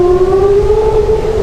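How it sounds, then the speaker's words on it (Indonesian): An air raid siren wails across Tel Aviv during Iranian ballistic missile fire, a loud sustained tone holding steady and gliding slightly, with no voices over it. "sirine serangan udara berbunyi di penjuru Tel Aviv saat rudal balistik Iran melintas di langit"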